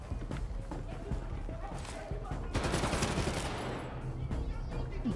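Gunfire in the shooter game Crossfire X, rapid bursts of shots against a busy backdrop, with someone talking over the action.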